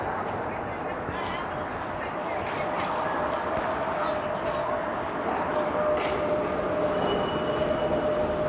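Subway train rumble in a Toronto station during winter, a continuous broadband roar with faint rail squeal, steady and fairly close, with voices heard intermittently over the noise.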